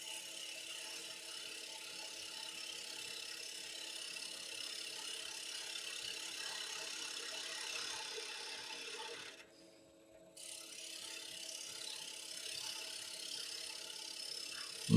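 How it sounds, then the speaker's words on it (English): A small bowl gouge cutting into a spinning wooden bowl blank on a lathe gives a steady, continuous scraping rasp with a humming drone underneath, broken by a brief pause near the middle before the cut resumes. "I'm using a small bowl gouge for doing most of the shaping"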